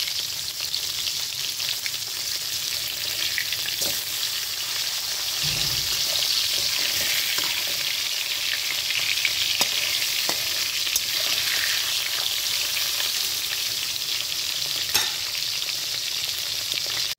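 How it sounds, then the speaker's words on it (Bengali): Mustard oil heats in a wok, left from frying fish, and gives a continuous loud sizzling hiss with scattered small pops and clicks throughout and no voices. "কড়াইটা গরম করে আবারও দেখো কিছুটা সর্ষের তেল দিয়ে নিয়েছি"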